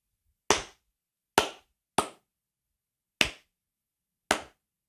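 Five sharp, isolated hand claps on a television set, dry and close with quick decay and silence between them, irregularly spaced.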